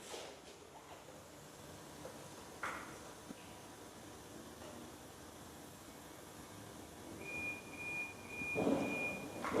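A 2018 Toyota Tundra sounds a single steady electronic tone during front radar calibration, faint under a constant background hiss in a workshop, with a brief rustle near the end.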